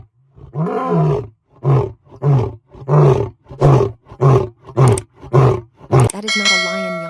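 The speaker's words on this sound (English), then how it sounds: "Listen to that sound." A lion roars in a slow series of deep, loud, rhythmic grunting bursts, about ten in a row with short pauses between, ending in a lower drawn-out rumble.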